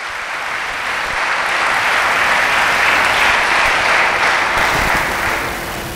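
Loud, sustained applause fills a church service, a dense wash of clapping from the congregation that swells and holds steady for several seconds before easing slightly at the end.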